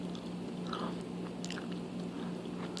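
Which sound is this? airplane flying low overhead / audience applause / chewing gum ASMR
chewing gum ASMR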